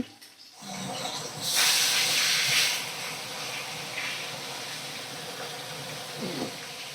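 Steady frying sizzle of bhetki fish in a hot pan, a loud hissing burst partway through, then settling back to a constant crackle.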